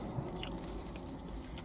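Someone bites into a Burger King Whopper and chews it close to the microphone, making a soft crunch followed by muffled, steady chewing.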